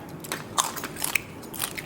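Someone bites into fresh, sweet blood cockles, the kind served in a spicy Thai pla ra salad, giving a handful of sharp, close crunches in quick succession.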